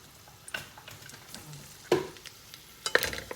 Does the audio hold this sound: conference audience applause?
no